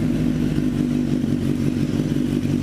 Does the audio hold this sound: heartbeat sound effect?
no